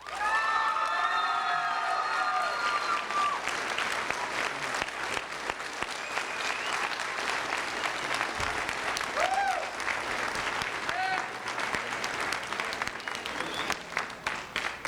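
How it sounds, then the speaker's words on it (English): Sustained applause from a large crowd at an ROTC awards ceremony fills the room, with some cheering and scattered shouts mixed in throughout. "Big round of applause for Sergeant Holland"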